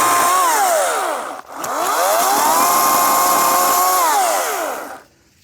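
Ryobi 40V 14-inch brushless electric chainsaw (RY40530) cutting through a piece of wood, a loud close whine that revs up, dips briefly, then holds a steady cutting pitch before winding down and stopping.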